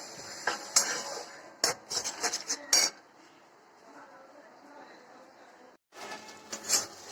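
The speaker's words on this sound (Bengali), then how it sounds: "এবার এই ডিমটা দিয়ে ভালো করে এটাকে ভাজা ভাজা করে নিতে হবে।" Egg being stirred and scrambled in a pan for egg fried rice, with sharp metal spatula scrapes and clatters against the pan in bursts, a quieter stretch of soft sizzle between them, and a final flurry of scraping.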